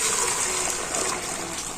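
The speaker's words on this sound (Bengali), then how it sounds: "তো দুধটাকে আমি একটা জায়গাতে করে ঢেলে নিচ্ছি," Hot milk is poured from a pot into another container while making sweet yogurt, making a brief, soft, steady gushing stream.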